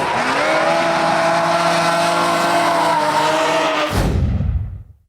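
Red Bull RX-7 and Forsyth S13 drift cars racing at Hampton Downs, engines held in a loud steady whine before a sudden noisy burst of tyre and engine roar that quickly fades away.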